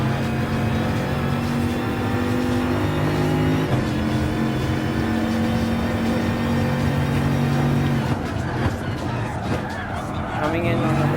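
Race car engine in Gran Turismo Sport, Vision Gran Turismo Trophy, revving hard and accelerating with steady tonal drone and gear changes around eight seconds, loud and continuous beneath a voice talking.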